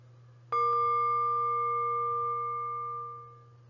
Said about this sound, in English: I'm just going to play 3 taps from a singing bowl.